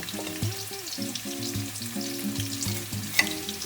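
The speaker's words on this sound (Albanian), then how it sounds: "Në momentin që po skuqim kungullin e fundit" Zucchini fries in a pan, a steady sizzle running under faint tonal background music with light stirring clicks, alone without talk.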